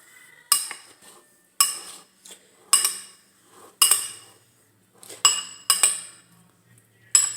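A utensil stirs avocado egg salad in a bowl, producing a series of about eight sharp, close clinks against the dish at irregular intervals, with quiet gaps between strokes.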